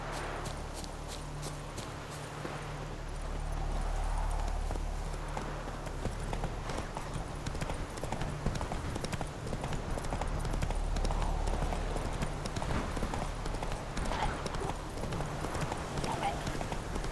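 Roach, Geralt's horse in The Witcher 3, trots along with rhythmic hoof clip-clops, steady and close throughout, over a low ambient game backdrop.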